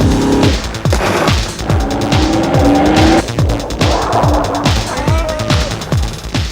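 A car skids through a driving clinic's car-control course, its tires squealing in repeated sweeping bursts over a loud engine that revs up and down, close and continuous.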